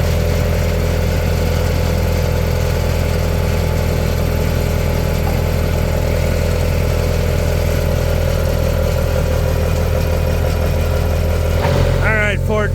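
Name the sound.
Ford tractor engine pulling an old Pontiac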